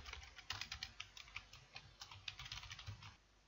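Quiet, close keystrokes on a computer keyboard come in quick irregular bursts as text is typed, then taper off near the end, with no speech.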